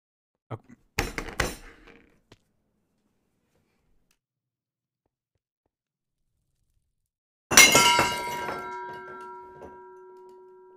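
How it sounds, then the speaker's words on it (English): Glass knocked over falls and shatters: a few small knocks and clinks first, then after a long silence a sharp, loud crash of breaking glass with ringing shards that trail off over a couple of seconds. "I hit something and it fell and it shattered"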